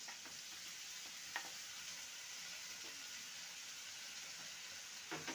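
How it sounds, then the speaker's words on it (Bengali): Ginger garlic paste frying in a pan, a soft continuous sizzle with a few faint stirring knocks, close but quiet and with no voices. "আদা রসুনকে ভালো মতন কষিয়ে নিতে হবে যাতে করে আদা রসুনের কাঁচা গন্ধটা চলে যায়"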